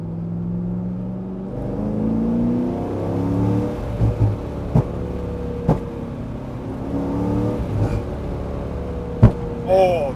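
A C6 Corvette's exhaust gives several sharp, booming backfire pops over a steady engine drone while driving, with distinct cracks spaced a few seconds apart.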